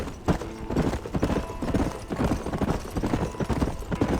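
Horse hooves clip-clopping steadily in Red Dead Redemption: Undead Nightmare, a loud close rhythmic trot with wagon rattle beneath.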